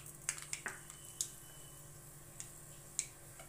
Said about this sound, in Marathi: मोहरी तडतडायला लागली,